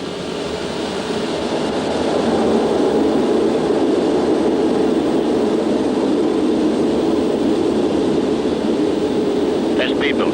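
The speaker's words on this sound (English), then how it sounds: "Okay, we're cleared for takeoff." Concorde's jet engines at full takeoff power make a loud, steady roar from inside the cabin that swells after the first two seconds and holds, with no talk over it.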